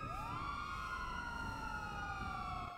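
Police car sirens in the video game Overlife, during an escape from a jewellery store, wail steadily, a rising and falling tone sounding loud and close, with no voices over it.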